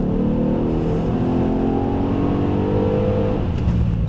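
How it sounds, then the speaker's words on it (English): A car accelerates in sport mode with sharpened throttle response and held lower gears, its engine note rising steadily as a loud, close, continuous drone that dips briefly near the end, with no talk. "It now holds the car in lower gear for longer, shortens the shift time, sharpens throttle response."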